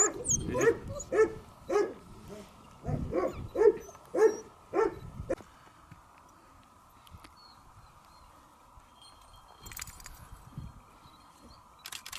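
Kangal dogs bark in a rapid run of loud, close barks for about five seconds, then fall silent, leaving a faint background hum with a few distant noises.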